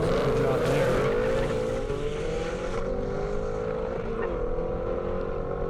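A Porsche Turbo roars down an airstrip in a standing-mile drag event, a strong engine note rising and then gradually falling in pitch as it speeds away, loud and continuous throughout.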